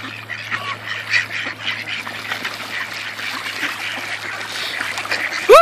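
Many ducks at a park quack and chatter in a busy feeding frenzy, a continuous noisy flock close by, with water trickling and a faint low hum underneath.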